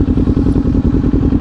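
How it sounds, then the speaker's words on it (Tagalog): Big-bike motorcycles of around 400cc ride by at Villar City in Cavite, their engines a loud, close, continuous throbbing rumble with a steady pulsing beat. "maumalis na yung mga naka big bike"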